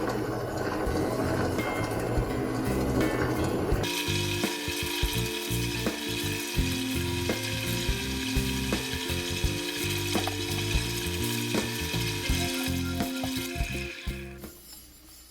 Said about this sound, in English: Using aluminum oxide as my polishing compound on a leather buffing wheel.